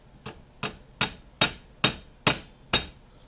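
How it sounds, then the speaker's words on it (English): Seven sharp metallic hammer taps drive a roll pin into a distributor gear at a steady, slightly quickening pace, close and clear, each ringing briefly before the next strike. "Start it with the hammer and then finish it with the roll pin punch."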